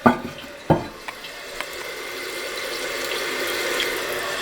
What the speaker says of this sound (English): just a regular old toilet bowl filling up